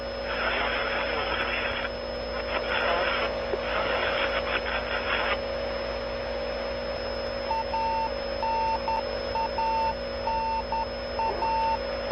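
A Soyuz capsule radio beacon sends a short repeating tone in evenly spaced bleeps over a steady hum of radio static and aircraft noise, with bursts of broadband hiss early on.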